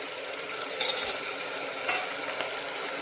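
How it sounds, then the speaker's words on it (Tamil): Ground shallots, ginger and garlic sautéing in a pan give a steady, close sizzle with faint scraping and stirring clicks throughout, no voices. "இதோட பச்சை வாசனை போகிற அளவுக்கு நல்லா வதக்கிக்கலாம் ஒரு 10 நிமிஷம்."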